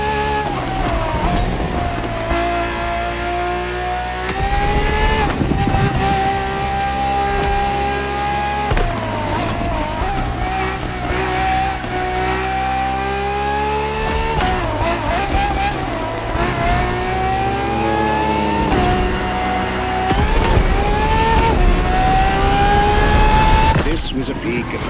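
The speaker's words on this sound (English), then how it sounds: "More than a car, the FXXK is an experiment for its makers and an experience for its drivers." A Ferrari FXXK supercar engine drives hard in The Crew Motorfest, its loud, rising whine climbing through the gears with short breaks at each shift. It stays steady and close under a narrating voice.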